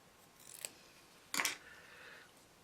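Scissors snip the corners of fabric on an Ohio Star quilt block, two quick close cuts about a second apart in a quiet room.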